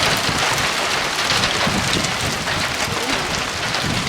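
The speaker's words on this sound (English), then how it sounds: "I don't know if the camera picks it up, guys, but that is hail." Hail falls in a dense, loud, unbroken pattering roar that fills the whole stretch, like heavy rain drumming on hard surfaces.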